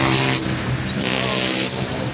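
Road traffic passes on a street near a park, a broadband rush of car engines and tyres that swells and eases as vehicles go by, heard close with no talking.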